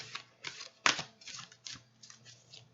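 Tarot cards being shuffled, a run of soft papery riffles and taps in a steady uneven rhythm, close and fairly quiet, with one sharper snap near the start and no talking.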